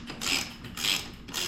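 A screw extractor turns out a stripped bolt on a downhill mountain bike pedal, giving three close ratcheting clicking bursts in an even rhythm with no voices.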